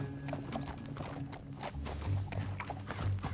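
Horse hooves clip-clop at a steady walk in a Red Dead Redemption 2 scene, with a snort amid low ambient game sound.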